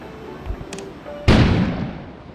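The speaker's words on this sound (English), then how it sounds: "An explosion suddenly occurred outside." A sudden explosion booms outside in the Kona video game, a sharp loud burst followed by a broad rumbling decay, with faint quieter noises before it.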